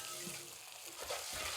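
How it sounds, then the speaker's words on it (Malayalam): Jackfruit erissery curry with roasted coconut being stirred in a pan, giving a soft steady sizzle with a few faint scrapes and clinks near the end, and no talking. "ഇനി ഒന്ന് പതിയെ മിക്സ് ചെയ്ത് കൊടുക്കുക."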